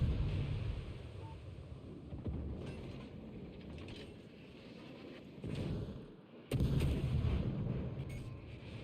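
Heavy naval gunfire from the Loyang destroyer in a naval combat video game, deep rolling booms over a constant engine and wind rumble, with a sharp loud burst near the end.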